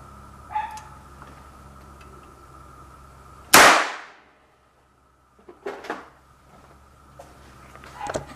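A balloon burst by the blast of a shotgun primer: a single sharp, very loud crack that rings and decays over about half a second, with small handling clicks before and after in a quiet room.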